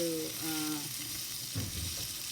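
Slices of Spam frying in a pan with onion and a little honey, a soft steady sizzle and crackle beneath a faint tonal sound at the start, quiet and close.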